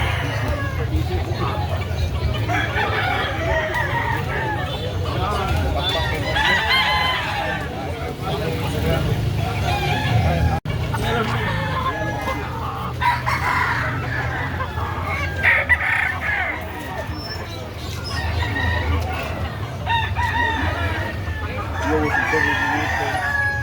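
A white-legged fighting rooster crows repeatedly and loudly, with other fowl clucking nearby; people talk and a crowd murmurs throughout, with occasional traffic in the distance.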